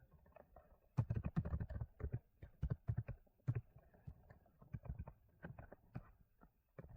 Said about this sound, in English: I am going to type lesson number